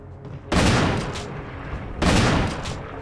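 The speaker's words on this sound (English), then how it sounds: "You shoot him a bunch." Gunfire aimed at a boss in Resident Evil HD: two dense, loud bursts of close shots, each trailing off, separated by a brief lull, with no talk.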